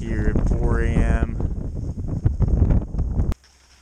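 Strong, super cold wind at dawn on the Ruth Glacier, buffeting the microphone in rough continuous gusts that roar loud and close before cutting off abruptly near the end.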